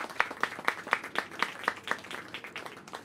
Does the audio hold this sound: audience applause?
yes